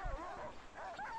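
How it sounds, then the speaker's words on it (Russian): A team of six large malamute sled dogs at a sled-dog race gives off rising, wavering whines and yipping howls, close and fairly loud over outdoor background noise. "Ну и единственная, очень редкая упряжка маламутов. Шестерка маламутов, очень крупные."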